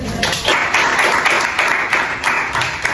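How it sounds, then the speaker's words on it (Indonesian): A small group of students claps together in a classroom counseling session, dense close applause with rhythmic pulses, fairly loud and sustained across the whole stretch. "Oke, tepuk tangan."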